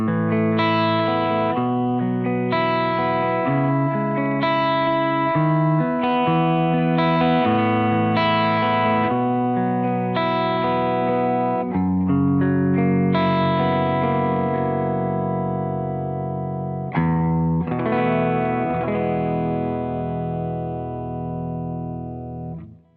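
Electric guitar played through a Soldano SLO 100 amplifier on the normal channel's clean setting, ringing chords and melodic notes with a slight effects sheen, sustained and steady throughout, ending on a fading held chord.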